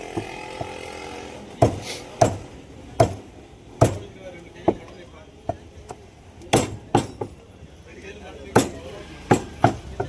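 A butcher cleaves the meat of an 11 kg male sheep with a heavy chopper on a wooden block, sharp loud thwacks landing at an irregular pace, around a dozen strikes.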